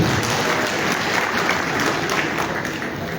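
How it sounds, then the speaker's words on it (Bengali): Audience applause for a medical university's first vice-chancellor at a formal gathering, a steady, dense clapping that fills the room for several seconds without fading. "আমি আসলে ওনার জন্য একটা করতালি আশা করছি"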